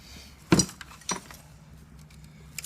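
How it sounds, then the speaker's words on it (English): Broken glass on a concrete slab clinks in a couple of sharp, brief impacts with a fainter rattle after, against quiet outdoor background. "Wow, tons of glass there."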